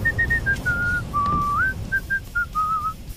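A video game character whistles a melody, Frog's theme from Chrono Trigger, clear and close, in short phrases with one long sliding note in the middle, over a low background hum.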